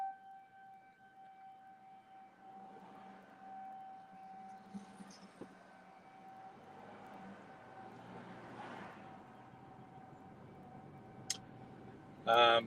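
Civil defense sirens wail steadily across Noblesville, Indiana, during a severe storm, heard from a vehicle driving through downtown, with a brief loud burst of noise at the end.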